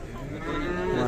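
Young bull calves moo at the Sokuluk livestock market, one loud, drawn-out bellow that swells and grows stronger over about a second, with no talking.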